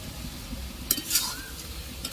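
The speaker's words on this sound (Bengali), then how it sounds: "ওপর থেকে দিয়ে দিচ্ছি এঁচোড় আর আলু, যেগুলো আমি কষিয়ে রেখেছিলাম" Jackfruit and potatoes being stirred into frying masala, a soft sizzle under a few quick metallic spoon scrapes and clinks, close and moderately quiet, no voices.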